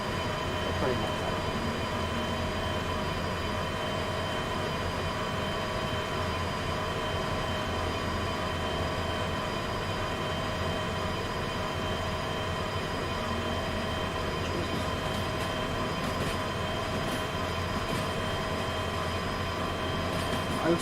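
A heavy train rolls slowly in a video game, producing a constant, loud rumbling drone with steady tonal hum and faint squeaky clicks near the end, unbroken and without talk.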